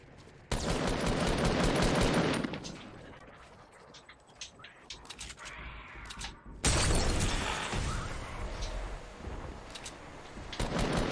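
Fortnite gunfire crackles in two dense, loud bursts of rapid shots with scattered single pops between them, heard alone without talk.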